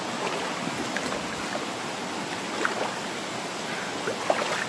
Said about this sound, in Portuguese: já dá para ouvir a cachoeira